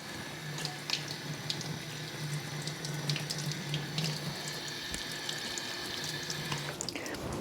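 Tap water runs steadily over a potted orchid in a sink, splashing onto the bark and roots as a continuous close hiss for several seconds, with no talking.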